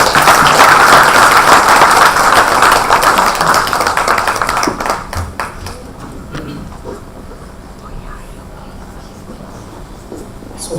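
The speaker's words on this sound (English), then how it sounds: "Big applause for him" An audience at a seated talk event bursts into loud, dense applause that carries for several seconds, then thins into scattered claps and fades away, leaving a quieter room.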